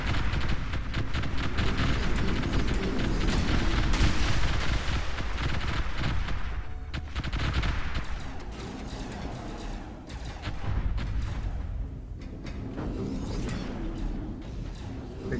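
Spaceship fleet's flank batteries firing in the StarDrive strategy game, a dense, continuous barrage of rapid crackling shots and booms that roll on without pause, loud and unbroken throughout.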